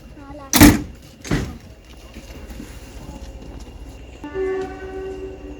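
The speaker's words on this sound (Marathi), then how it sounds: "हॉर्न दिलेला आहे" Two loud, short blasts of a train horn close by at the Severn Valley Railway Engine House, followed by the steady rumble of a passing train, with faint voices under it.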